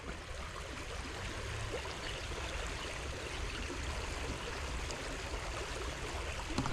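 River water streams steadily through a channel at a fishing spot, a continuous broadband rushing and gurgling flow that stays even and fairly loud throughout, with no talk.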